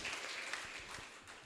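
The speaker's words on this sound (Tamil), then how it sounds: "நல்லா உற்சாகமாக கைதட்டுங்க" A quiet patter of hand claps from a seated audience at a literary festival debate stage, faint and brief, greeting a speaker.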